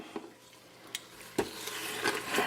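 Oxtails searing in hot beef tallow give a soft, steady sizzle close by, broken by a few brief clinks and stirring taps from the pan, with no talking.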